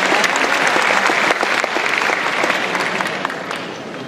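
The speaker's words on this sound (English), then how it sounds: "How about another round of applause for all of our fantastic Fall Costume Contest entries this evening" Enthusiastic audience applause at an Otakon 2022 cosplay masquerade, saluting fall costume contest entries, loud and dense with crisp individual claps near the front, tapering slightly toward the end.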